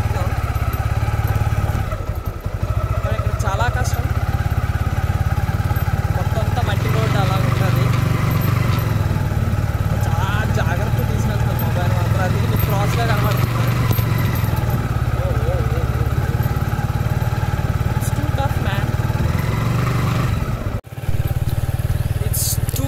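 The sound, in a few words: motorcycle being ridden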